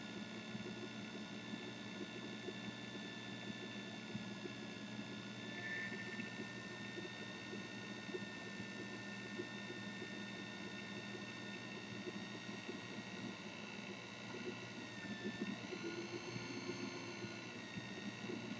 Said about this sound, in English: You have to regulate the speed of the lathe because it's the optimal speed for cutting this material.